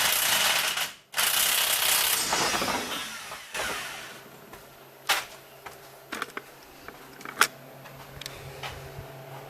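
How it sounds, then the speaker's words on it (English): Impact wrench removing a strut nut on a B4 Passat, with a loud sustained rattling burst for the first few seconds, a brief pause, another burst, then scattered clanks and clicks of tools and parts. "except for this time I'm going to do it with the impact"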